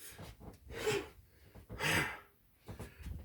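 Close, deliberate breaths during a martial arts rising-kick exercise: a few audible inhales and exhales in slow succession, alone and fairly quiet.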